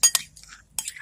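A utensil clinking and scraping in a bowl while one-ingredient slime is mixed, with a few short sharp taps spaced out over about a second, near and fairly clear.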